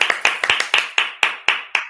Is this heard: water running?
no